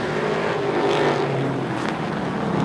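Race cars on a short oval track in a super short track series, a loud continuous roar of several engines at close range with slight swells as cars pass, no talking.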